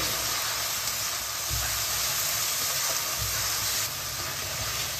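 Ground onion paste frying in a pan for a fish roe curry, a dense continuous sizzle and hiss close by with a few soft scraping stirs, no speech.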